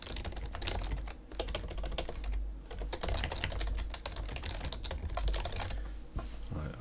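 Steady typing on a computer keyboard while entering a token name, a dense run of close, quick key clicks over about seven seconds with brief pauses and no talk.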